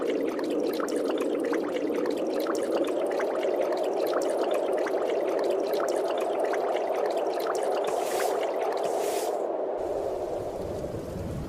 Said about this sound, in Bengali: এই রে, বলতে না বলতে দেখছি বৃষ্টি চলে এসেছে।